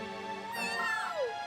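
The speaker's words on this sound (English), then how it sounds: "Meow." A cat meows in Dragon Quest Treasures, a single drawn-out, rising-then-falling cry that sits fairly close and clear over a steady game music bed, with no talking.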